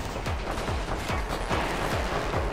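A machine gun nest fires nonstop in a toy-soldier war game, a dense loud stream of rapid shots with repeating thumps, layered over constant battle noise with no talk.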